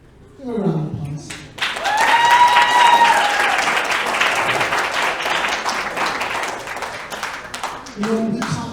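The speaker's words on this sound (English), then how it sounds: "Give a round of applause." Audience applause at a live presentation, a full burst of many hands clapping that swells in after a brief voice at the start and holds steady, with a voice calling out over it and speech returning near the end.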